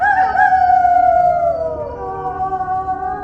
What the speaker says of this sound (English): the grounds are patrolled by vicious dogs